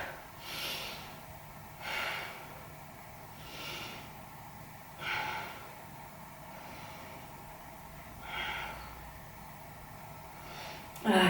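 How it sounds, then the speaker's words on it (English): Slow, deep breaths taken while holding a Pilates back stretch, about six soft, airy inhales and exhales spaced a couple of seconds apart, close and quiet over a low room hum. "Let's take 5 breaths here"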